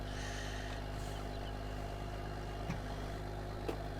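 A Case MXM190 tractor idles in Farming Simulator 22, a steady, low diesel hum with an even rumble, quiet and constant, broken only by a couple of faint clicks.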